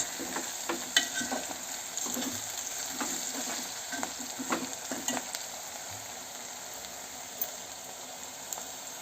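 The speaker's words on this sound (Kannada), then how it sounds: "ನೀಟಾಗಿ ಫ್ರೈ ಆಗ್ತೈತೆ" Upittu ingredients fry in a pan while a spoon stirs them, giving a steady soft sizzle broken by repeated scraping strokes, fairly quiet and close, with no talking.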